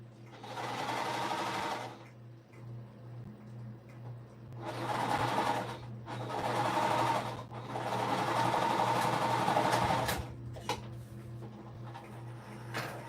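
Domestic sewing machine stitches soft minky fabric for a plush ball in several bursts of steady whirring and rapid needle clatter, separated by brief pauses, over a constant low motor hum.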